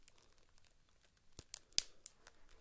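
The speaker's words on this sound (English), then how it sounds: "first place you want to cut is down the center" A blade cuts down the center of a Mattel Elite doll's body, giving a few faint scraping, tearing snips that are sparse and close in near silence.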